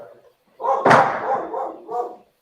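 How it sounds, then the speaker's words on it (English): A dog barks indoors, giving a sharp, close bark followed by a couple of lower, shorter woofs within about two seconds. "That's my dog, guys, not the body cam."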